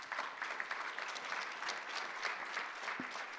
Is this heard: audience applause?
yes